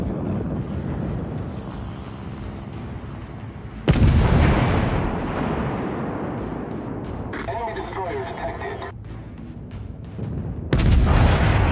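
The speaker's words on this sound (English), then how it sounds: "Concentrate fire on the enemy warship." Naval guns of the battleship Iron Duke in World of Warships: Legends, two heavy booming salvos with long rumbling decay, wind and sea noise underneath and a brief voice line in between.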